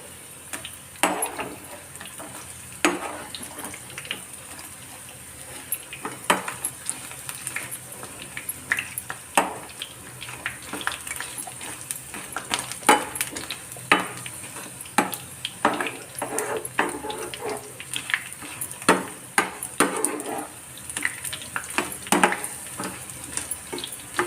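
Banana flower chilli pieces sizzle steadily in hot oil in a pan, a dense crackling hiss broken by occasional scrapes and knocks as they are turned.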